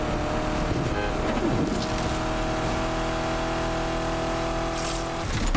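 A Ford Crown Victoria in the racing game Need for Speed Unbound accelerates hard on nitro along a straight, the engine note droning steadily and climbing, with a brief tire squeal or whoosh near the end.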